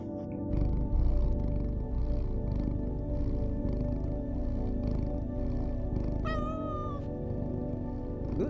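A cat purring in the action video game Loopmancer, a steady low rumbling purr running throughout under game ambience, with a short rising meow-like call near the end.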